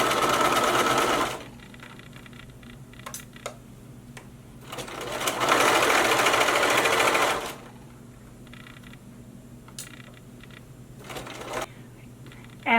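Sewing machine stitching a neckband onto a shirt seam, two sustained bursts of fast mechanical whirring separated by quieter handling clicks and pauses, close and clear.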